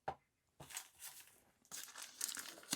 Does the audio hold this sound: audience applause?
no